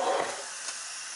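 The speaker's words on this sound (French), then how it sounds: "on laisse évacuer la vapeur" Steam hisses out of a pressure cooker just taken off the heat, a loud, close, breathy rush that eases to a steady softer hiss over about a second.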